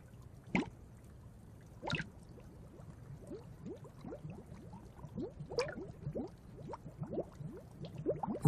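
Water dripping quietly and steadily, with many small plinks and bubbling drops at an irregular rhythm and a few louder splashes standing out over a low, murky background.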